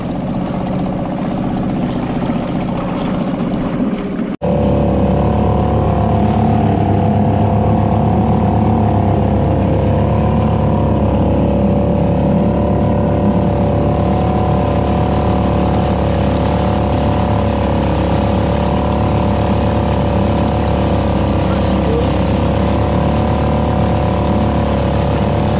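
A Suzuki 2.5 HP four-stroke outboard motor being broken in catches after a few seconds of quieter background. It then runs at a loud, steady, droning idle close by, with no talking.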